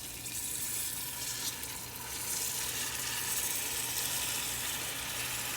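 Soaked rice goes into a hot pot for chicken biryani with ginger and garlic, giving a steady broad sizzle that swells slightly partway through, close and continuous with no talk.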